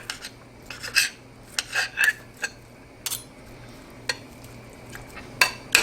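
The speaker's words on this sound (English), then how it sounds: "I'm gonna dump it in the pan right now. First chicken breast is in." Raw chicken breast drops into a pan among clinks and scrapes of utensils on cookware, with a sharp impact or two and a faint sizzle underneath, no talking.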